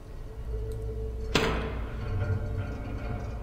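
A door in the survival video game Stranded Deep opens or closes with one sharp, bright clack, heard over a steady low ambient hum and rumble that continues after it.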